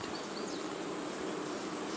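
A dense, even buzz of honeybees surrounds a suited beekeeper, holding at a constant level without a break.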